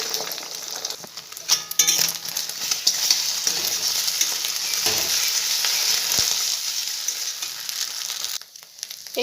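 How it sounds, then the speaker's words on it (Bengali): Beaten eggs fry crumbly in hot oil in a wok, giving a steady close sizzle with stirring scrapes and a few light clinks, the frying easing off near the end. "ডিমটাকে আমি ঝুরো ঝুরো করে ভেজে নিই"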